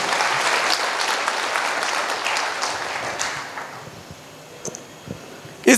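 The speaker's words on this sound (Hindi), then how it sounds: "आप सभी के लिए जोरदार ताली होनी चाहिए एक बार" Audience applause after a business speech at a diamond-ship recognition event, a sustained broad clatter of many clapping hands that fades gradually over several seconds, with a few scattered claps near the end.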